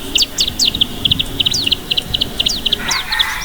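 Many small birds in a parrot house aviary in Malaysia chirp in quick, high, repeated bursts throughout, close and lively, with no talking.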